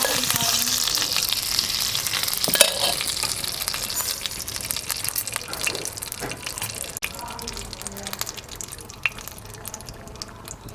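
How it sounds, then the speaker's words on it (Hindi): Onion and garlic frying in hot ghee, a steady crackling sizzle with occasional stirring clinks and pops, close and fairly loud throughout. "और अब हम यहाँ प्याज और लहसुन को फ्राई कर लेंगे।"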